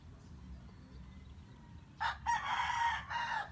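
An elderly rooster, kept for about eleven years, crows once loudly and close after a quiet pause, a long strained call breaking into a final note.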